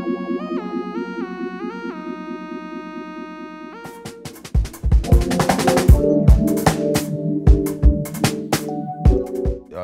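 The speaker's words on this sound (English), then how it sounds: "putting the phaser on the Rhodes" Rhodes electric piano run through a phaser, sustained chord tones sweeping slowly at first, then busier struck chords and stabs fill the rest, played alone with no voices.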